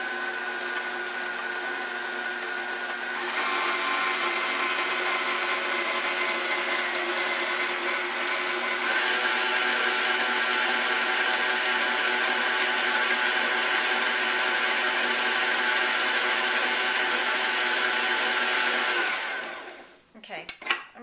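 Stand mixer beating flour, butter and sugar for cinnamon roll dough, a loud steady motor whine that steps up in speed twice before shutting off, then a few clatters.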